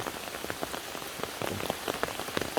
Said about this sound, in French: Ouais, c'est vraiment de la pluie.